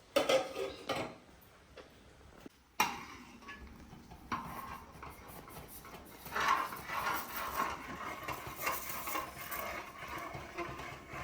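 Potatoes stirred in a cooking pot with a utensil, intermittent metallic scrapes and knocks against the pot, a sharp clank, then softer rhythmic stirring sounds, fairly quiet and close.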